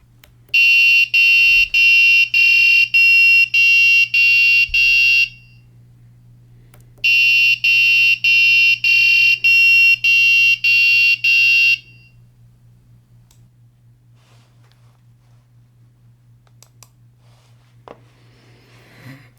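A buzzer driven by a motion-detection sample program beeps in two loud bursts of rapid, evenly spaced pulses, with a pause between them. Only a low steady hum remains afterward.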